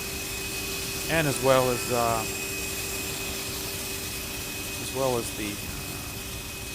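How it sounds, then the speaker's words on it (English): A steady aircraft APU drone runs outside a CRJ regional jet in a flight simulator game, a constant whine and hum under brief stretches of someone talking. "as you can hear, outside here is the sounds of APU"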